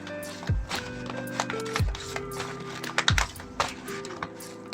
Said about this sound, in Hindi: टैरो में से 3 कार्ड ले लेंगे हम और इस डेक को डिवाइड करेंगे। जो भी कार्ड्स आएंगे हाफ हाफ ले लेंगे।